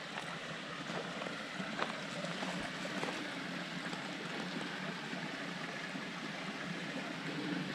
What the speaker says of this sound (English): Get on over where the water's moving.